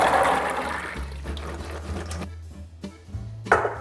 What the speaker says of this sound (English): the first thing we need to do is strain our chickpeas